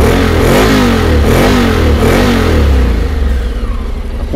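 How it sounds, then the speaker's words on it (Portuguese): A Honda X-ADV motorcycle engine revs hard up close, the pitch climbing and dropping in repeated throttle blips before settling toward a lower idle, loud and alone. "Então ligando aqui a moto."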